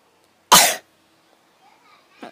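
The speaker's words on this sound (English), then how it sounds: "I'm having a cough here" A single sharp child's cough bursts out loud and close, followed by quiet room noise and a fainter short vocal sound near the end.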